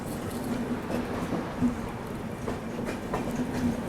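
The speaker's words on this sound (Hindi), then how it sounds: "साथ में यहाँ पे पूरी दुर्ग एक्सप्रेस डिपार्चर ले रही है" The Durg Express pulls out of Raipur station with a steady, loud rumble and rhythmic clickety-clack of wheels over rail joints, sustained throughout.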